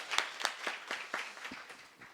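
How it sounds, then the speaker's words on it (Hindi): An audience at a Hindu religious discourse claps in a steady rhythmic beat, about eight sharp claps that gradually soften, with no talk. "जोर से ताली बजा सकते।"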